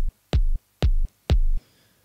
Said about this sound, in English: I will now pick this kick right here.